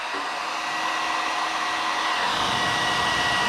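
A Conair hair dryer blows steadily with a loud, continuous whooshing hum throughout, its airflow roar slightly intensifying toward the end.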